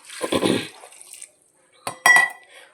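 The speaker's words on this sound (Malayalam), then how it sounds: "വെള്ളം ഒഴിച്ചു കൊടുക്കുക" Water splashes and pours into a metal pot of chickpea curry with turmeric in two short bursts, the first longer and fuller, the second brief, with quiet gaps between.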